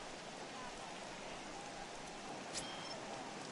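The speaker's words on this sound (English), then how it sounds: "the conditions aren't ideal with the rain coming down" Steady rain pouring down over a baseball stadium in MLB The Show 18, an even, continuous hiss throughout with a faint voice murmuring beneath it.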